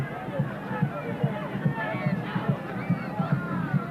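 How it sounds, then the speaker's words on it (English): Stadium crowd at a 1989 Toronto Blizzard versus Flamengo football match, a continuous babble of many voices with a steady repeating samba drumbeat thumping underneath. "Great crowd on hand. Brazilian flags, Canadian flags, and of course the beat of the samba music."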